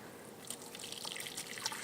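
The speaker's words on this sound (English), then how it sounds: "So I'm going to pour this carefully over the bowl." Elderberry tincture with cinnamon sticks, cloves and rose hips poured carefully through a strainer lined with paper towel into a bowl, a steady soft trickle and dribble of liquid with small splashy drips throughout.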